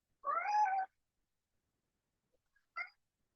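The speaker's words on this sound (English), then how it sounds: "Okay, that's a new meow." A tuxedo cat gives one clear, fairly loud drawn-out meow, then a short quieter chirp-like meow after a pause, with no talking.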